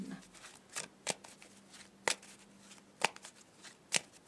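Playing cards are riffled and bridged in several quick bursts, each a short crisp flutter about a second apart, close and fairly quiet, with a faint voice murmuring low in the background.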